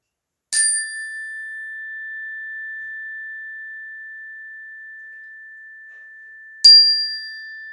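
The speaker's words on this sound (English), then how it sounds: "I want you to focus on nothing other than the sound of the chime." A chime rung during a children's yoga session sounds twice: a bright metallic strike that sustains as a long, pure, slowly fading tone, then a second strike about six seconds later. Quiet surroundings, no talk.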